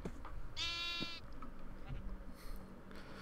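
A Minecraft sheep gives one clear, wavering bleat down in a game area, heard over a steady background hum, with faint game noises following.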